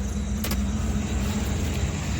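A car cruising on a long road trip from Jharkhand toward Maharashtra hums with a steady low road and engine drone, with a short rattling click near the start.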